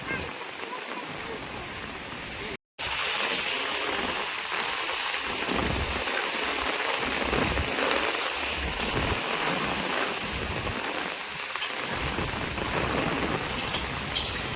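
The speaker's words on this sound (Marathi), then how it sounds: "पावसात धुमशान." Heavy monsoon rain pouring over a Konkan village in Sindhudurg, a dense, constant hiss of downpour close by with a brief dropout early on and no clear talking.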